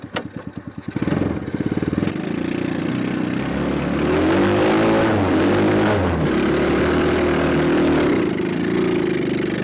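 Small mini Jeep engine pulling in second gear, a rough low drone that starts with a few stuttering putters, then holds a loud, steady labouring rumble with slight rises in revs.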